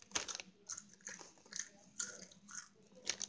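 Doritos chips being bitten and chewed up close, a series of sharp crunchy bites repeating every half second or so, loud against a quiet background.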